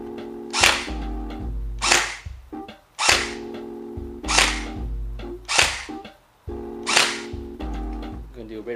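A JG M4 S-System FB-6613 airsoft rifle fires 0.20 g BBs during a chronograph test: seven loud, close single shots, each a sharp crack with a brief mechanical whir, spaced about a second apart.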